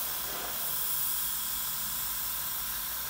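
An airbrush sprays paint along the edge of masking tape on a 1/48 scale model jet, a steady, close, even hiss, continuous and unbroken for a few seconds.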